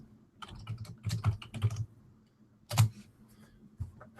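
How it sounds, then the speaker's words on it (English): A password being typed on a Windows computer keyboard, heard as close, quiet bursts of key clicks in short irregular runs with a pause before a final louder keystroke, and no voices. "So I'm just going to type that into this window here."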